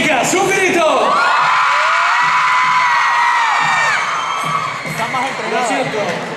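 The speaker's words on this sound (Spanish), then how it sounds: "Chicas, un grito." Girls in the audience at a hip hop and funk dance event scream loudly together on cue. The crowd's high-pitched shrieks and whoops swell, hold for several seconds, then break into scattered yells.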